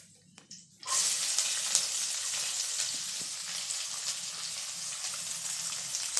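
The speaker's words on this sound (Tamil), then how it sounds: "நான் 10 சின்ன வெங்காயம் நீல வாக்கில் கட் பண்ணி வச்சுருக்கேன், அதை போட்டு வதக்கிறேன்." Ten thinly sliced small onions drop into hot oil for an okra dish and break into a loud, close sizzle that holds steady after a few quiet clicks, with no talk.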